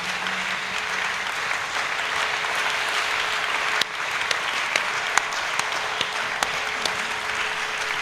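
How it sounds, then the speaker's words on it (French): A church congregation at a Wednesday evening service applauds steadily, a dense even patter of many hands with a few louder individual claps and faint whoops standing out. "On donne encore des acclamations au Seigneur."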